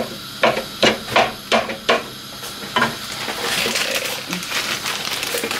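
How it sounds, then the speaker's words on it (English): Minced meat is mashed in a hot pan with a meat masher, giving a run of about six sharp, rhythmic thuds, followed by a steady sizzle of frying mince. "Gonna mash up the meat before I put that onion and garlic in."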